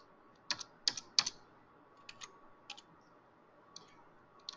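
Keys tapped on a computer keyboard to enter figures into TValue software, a few quick clustered clicks at first, then sparse single keystrokes spread out over a quiet background.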